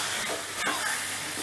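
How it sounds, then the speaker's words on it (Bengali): Fried potato and pointed gourd get stirred into a sizzling spice paste in a pan, a steady frying hiss broken by a couple of short scraping stirs. "এবার আলু পটলটাকে মশলার সাথে একটু মিশিয়ে নিচ্ছি।"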